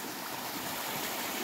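A small waterfall in the hills of Cerro San Gil near Puerto Barrios, Izabal, Guatemala, pours with a steady broadband rush of water, continuous and fairly close, with no talk over it.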